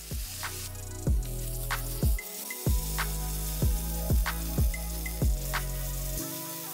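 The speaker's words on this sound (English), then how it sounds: "You also want to make sure you sear the sides of your meat, just like I'm doing." Pork chops sear in a pan for a one-pan honey garlic dish, giving a steady sizzle at moderate volume. Low repeating thumps and clicks break in at regular intervals.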